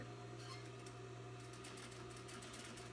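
A sewing machine runs steadily as it back-stitches and stitches fabric downward beside a zipper, making a continuous near motor hum with rapid needle chatter and no pauses.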